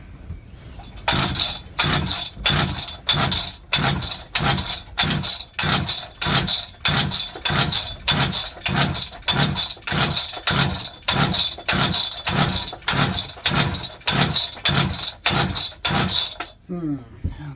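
An old Jonsered 630 chainsaw is pulled over again and again on choke, with about twenty rhythmic starter-cord rasps at roughly one-second intervals. It never fires, and the pulls are loud and close.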